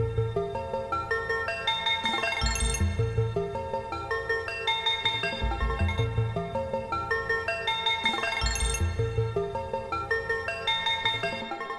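Layered synth arpeggio in repeating bright patterns, washed in chorus, echoing delays and spacious reverb, with a deep bass pulse underneath and no voices.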